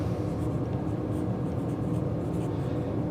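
Steady, close scratching and scraping of writing on a board during a classroom biology lesson, continuous and fairly even with no pauses.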